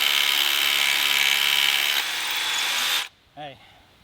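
A DeWalt cordless power tool whirs steadily at full speed driving screws while building block-wall forms, then cuts off abruptly and gives one short follow-up burst; close and loud.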